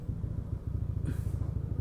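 A motorcycle is ridden in at Balaoi, Pagudpud, Ilocos Norte, giving a steady, close low engine rumble that pulses evenly throughout, with a brief airy hiss rising over it partway through.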